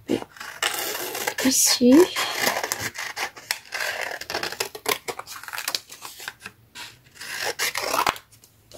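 Scissors snip through paper die cuts at a scrapbooking table, with close, intermittent crisp cutting and rustling while someone speaks French over it.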